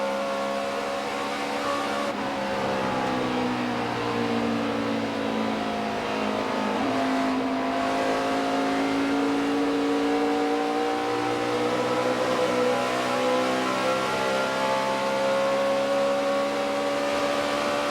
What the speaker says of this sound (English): I love to listen to the engine and how Dale Jr. gets this car around the racetrack.